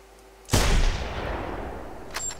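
A single loud gunshot in the hunting video game theHunter: Primal, which has a sharp crack and then a long rolling echo that fades out, followed by a faint second report at the end.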